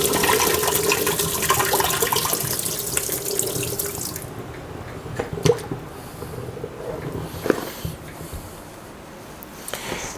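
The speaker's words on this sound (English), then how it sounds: "So let me just drain these off." Water from a tap or sink pours and drains off sliced potatoes soaking in a bowl, a loud broadband rush for the first four seconds, then fading into quieter trickles and drips in a kitchen sink.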